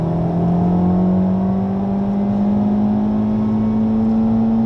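A Honda Civic Type R accelerates on the Le Mans circuit, its engine note climbing steadily in pitch as it pulls hard. The tone is loud and close, with a strong sustained drone and no talk over it.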